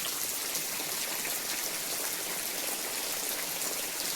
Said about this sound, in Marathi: पाऊस खूप छान पडतो इकडं